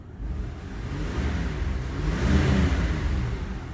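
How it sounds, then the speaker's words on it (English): The engine of a 1994 Isuzu Rodeo that runs poorly and rich is revved, rising from idle to a louder, steady roar that swells near the end and stays close and continuous. "I rev it up,"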